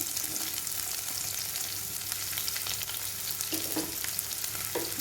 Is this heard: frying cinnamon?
yes